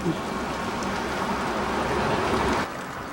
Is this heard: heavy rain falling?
yes